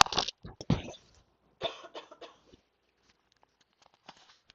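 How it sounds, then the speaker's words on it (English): Several sharp coughs in quick succession from a person, with a short burst, a pause, then another cluster, followed by faint rustling and quiet, close to the mic. "need to cough, hold on"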